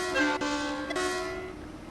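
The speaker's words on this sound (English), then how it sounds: "always sound the horn if there's any particular train spotters around" A German high-speed train in Train Sim World 6 sounds its horn: a loud, steady two-tone blast with a brief break, fading slightly toward the end, no voices.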